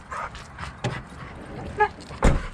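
A dog whines and whimpers in short, soft bursts, with a sharper yip near the end, fairly close by.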